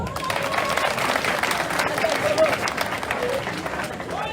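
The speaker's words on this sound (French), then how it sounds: "Ça là, c'est Mme Dominique Ouattara, je vous demande de l'acclamer." A crowd applauding and cheering Mme Dominique Ouattara at a political rally in Abobo, a steady dense wash of clapping and voices sustained throughout.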